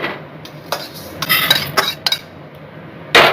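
A bowl of fried mung dal is taken down in a home Bengali kitchen, with a few close metallic clinks and scrapes of utensils and dishes, separated by brief pauses.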